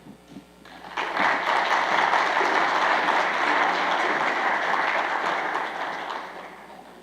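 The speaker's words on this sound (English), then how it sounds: "How about another round of applause for Jim Steller, the new president" Audience applause at a university panel event, starting with a few scattered claps then swelling into sustained, dense clapping from a large crowd that slowly tapers toward the end.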